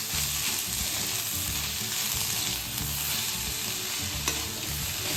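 Chicken fried rice is stir-fried restaurant style in a pan, a steady loud sizzle with constant scraping and tossing of the rice throughout, close and continuous with no talking.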